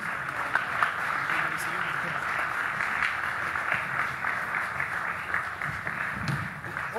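Audience applause for Republican Senate debate candidates, a dense, steady clapping that holds for several seconds, loud and close, with some voices mixed in underneath.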